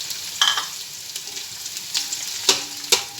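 Onions frying in oil with green chili and ginger give a close, steady sizzle, broken by several sharp crackles and spatters with stirring scrapes.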